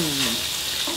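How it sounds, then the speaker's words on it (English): Bacon and onions frying together in a pan for corned beef hash give a short burst of steady, close sizzling. "cooking up, first of all, the bacon and the onions together"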